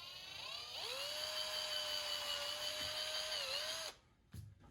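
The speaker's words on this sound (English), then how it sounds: "1/8 inch drill bit, that's what it calls for." A power drill with a 1/8 inch bit whines steadily at high pitch for about four seconds, dipping slightly as it bites, then stops abruptly, followed by a brief clunk.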